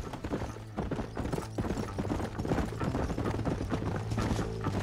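Horse hooves clip-clopping at a steady gallop in the Red Dead Redemption video game, loud and continuous, mixed with in-game music and ambient sound.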